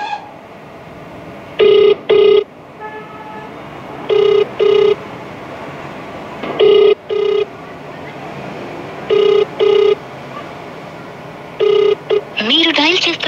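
A telephone call plays out as paired beeps of a ringback tone repeating about every two and a half seconds over a steady line hiss, ending in a brief burst of dialing-like noise.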